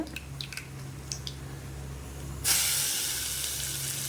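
Grated carrot dropped into a hot pan, a sudden loud sizzling hiss that starts midway and holds steady, close by, after a quieter stretch of light clinks.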